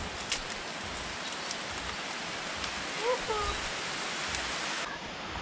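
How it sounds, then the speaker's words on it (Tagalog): Steady rain falling on trees in a rural forest beside a river, a soft even hiss with faint scattered drops and distant water. "Nabutan na tayo ng ulan."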